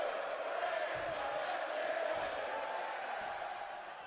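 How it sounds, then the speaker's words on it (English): A large crowd at a wrestling event chants in unison, a dense, roaring wall of voices that holds steady and then slowly fades, heard from a distance. "And the crowd is chanting"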